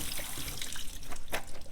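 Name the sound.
rinsing food under a running faucet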